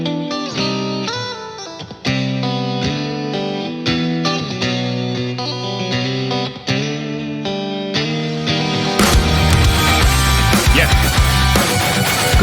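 An electric guitar with heavy effects plays rhythmic chords and notes in a progressive piece, then bursts into a louder, dense distorted wash near the end.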